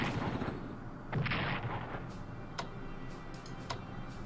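Artillery fire in the strategy game Strategic Command: World at War, a burst of booming shots with several sharp reports standing out over a dense rumbling game soundscape.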